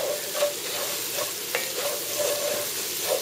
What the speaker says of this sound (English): And just keep on sauteing.